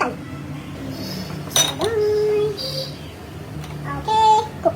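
A pressure cooker being set down among pots in a home kitchen while making sambar, giving a few clanks and metallic clinks. A whistle-like tone rings briefly, and a voice is heard in the background.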